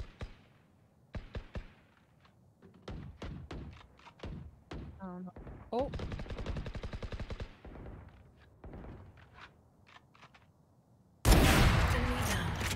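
Valorant gunfire during a competitive round: scattered single shots, then a rapid automatic burst, then more isolated shots, closing with a loud noisy burst.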